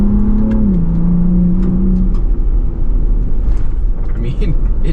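Ford Bronco Raptor in off-road mode pulling hard across desert terrain, its engine note rising steadily under a constant loud rumble of wind and tires, with a voice talking over it throughout.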